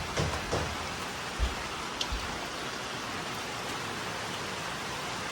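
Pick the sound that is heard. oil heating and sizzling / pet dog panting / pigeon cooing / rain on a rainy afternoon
rain on a rainy afternoon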